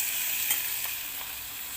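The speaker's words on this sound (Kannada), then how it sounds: "ಚೆನ್ನಾಗಿ ಈರುಳ್ಳಿ ಫ್ರೈ ಆಗಬೇಕಿದು" Onions frying in a pan for mutton liver, a continuous bright sizzle with faint stirring taps, close and steady, with no speech.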